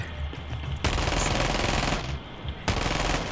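Bursts of automatic gunfire in Rainbow Six Siege, loud dense rattling volleys with a short pause between two long strings of shots, no talking.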